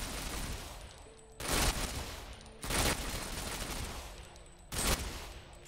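Gunfire from the BKG submachine gun in the shooter game Ghost Recon Phantoms, heard as three loud bursts roughly a second or so apart over a steady noisy game background, with no talking.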